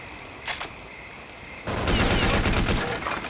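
AK rifle gunfire rings out in Counter-Strike: Condition Zero, a brief early burst and then sustained, loud automatic fire rattling on for well over a second.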